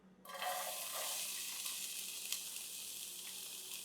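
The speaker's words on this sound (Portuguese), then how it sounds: "eu vou começar fritando cebola" Onion starts frying in a generous pour of olive oil in a 26 cm surgical steel pan, a sudden close sizzle that settles into a steady, even hiss, with no talking.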